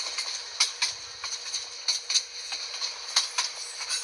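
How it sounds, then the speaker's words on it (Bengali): An express train passes Chattogram station in a Bangladeshi train video game, giving a steady run of crisp, rhythmic clacking bursts over a continuous hiss, moderately loud and with no talking. "আর এই যে চট্টগ্রাম স্টেশন এক্সপ্রেস ট্রেন যাচ্ছে।"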